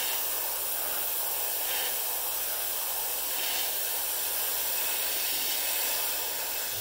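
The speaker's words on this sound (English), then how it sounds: "Got a little bit of paint coming out." Airbrush hissing steadily as it sprays paint onto a Rapido model box car, a continuous close airy hiss with slight swells, no talking.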